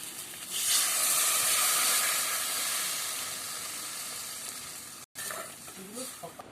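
Hot water hits frying spice paste for a taro-cake curry and sets off a loud, bright sizzle and hiss that slowly fades. After a brief cut, softer bubbling and stirring follow.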